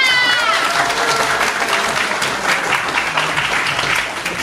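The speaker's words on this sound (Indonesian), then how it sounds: "Beri aku tepuk tangan yang meriah." Theatre audience at a children's stage performance breaks into steady, full-bodied applause that holds strong throughout, a dense wash of many hands clapping at once, with a faint voice trace briefly at the start.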